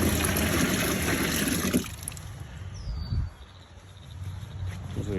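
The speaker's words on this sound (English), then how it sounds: "I'm gonna start filling up this bucket." Water runs into a bucket being filled as a bait tank for shad on a crappie and bass fishing trip. A rushing pour for about two seconds gives way to a quieter, uneven trickle, close by, with no talk.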